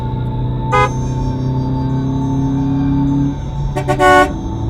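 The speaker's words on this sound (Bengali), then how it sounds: "গ্রামের রাস্তা দিয়ে ধুলো ওড়াতে ওড়াতে ছুটে চলেছে এই ধের ধেরে বাসটা বকুলতলি গ্রামের উদ্দেশ্যে" An old, rickety bus rattles along a dusty village road, its low engine drone steady throughout, broken by a short horn toot early on and a louder double honk near the end.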